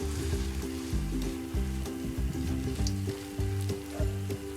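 Potato pancake batter sizzling and crackling steadily in hot oil in a frying pan, a close, continuous frying hiss with pulsing low hum from the stove.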